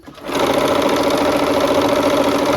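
Steady, loud whir of a sewing machine stitching quilt blocks together, running continuously after a brief start, with no talking.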